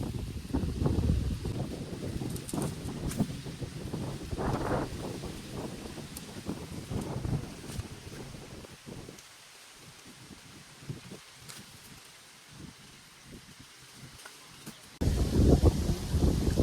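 Wind gusts through a mango orchard, a steady rushing roar with rustling leaves and microphone buffeting, easing midway and then surging loud again near the end, with no voices.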